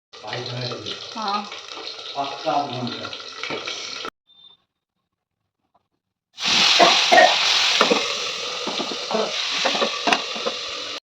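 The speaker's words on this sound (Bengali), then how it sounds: "এবার মাছটাকে আমি উল্টে দেবো আর উল্টে দিয়ে মাছটা আমি ঝাল করে নেবো" Fish frying in a pan while a Bengali fish curry is cooked, a steady broadband sizzle that stops abruptly midway, goes nearly silent, then returns louder and more intense, with some speech-like sounds early on.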